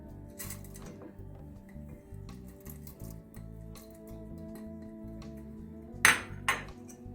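A metal whisk stirs yayla soup of yogurt and rice in a pot, making a soft steady scrape under a low hum, then two sharp metallic clinks against the rim near the end.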